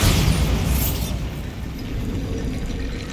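A Bombarda blast spell in the Hogwarts Legacy video game lands as a loud boom with a bright burst, then a rumbling crumble of debris that fades over about three seconds, with no voices.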